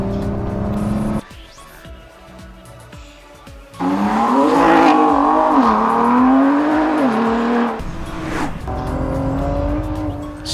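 A Ford GT sports car at speed on a track, its engine roaring loudly with rising and falling revs through gear changes, a quieter stretch early on, then sustained high-speed noise close by.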